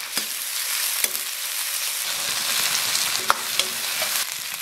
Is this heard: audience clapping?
no